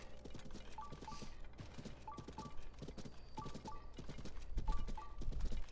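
Horse hooves clip-clop in a steady trotting rhythm in The Legend of Zelda: Tears of the Kingdom, paired hoof strikes repeating about once a second over a low ambient game background, growing slightly louder toward the end.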